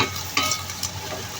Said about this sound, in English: Keep on mixing and mixing and mixing and mixing.